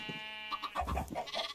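Several short sheep bleats from a blocky video-game farm, close and fairly loud, repeating in quick succession over a steady faint background hum.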